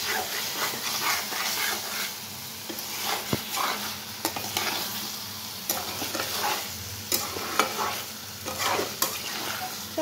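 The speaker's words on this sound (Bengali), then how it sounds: "এখন একদম অল্প তেলে চিকেন কষা" Yogurt-marinated chicken frying in a small amount of oil for kosha, a steady sizzle broken by repeated scrapes and knocks of a stirring spoon, close and moderately loud.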